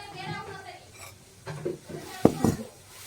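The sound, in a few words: placing a kadai (wok) on the stove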